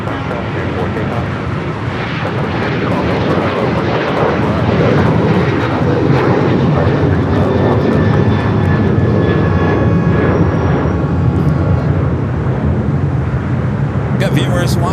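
An airliner roars down the runway on takeoff at LAX, a loud sustained engine rumble building and holding for the whole stretch, with radio chatter and voices underneath.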